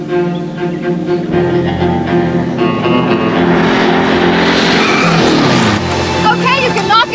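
The Love Bug racing car skids and screeches through fast maneuvers, a loud tire squeal and engine rush swelling midway beneath a continuous orchestral music score.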